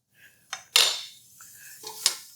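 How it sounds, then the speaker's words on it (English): A utensil scrapes flour and butter into a roux inside a 3-quart 5-ply stainless steel saucepan, giving a few sharp metallic scrapes and clinks, close and fairly loud, with no talking. "we're gonna scrape this, and we're gonna make a little roux out of this"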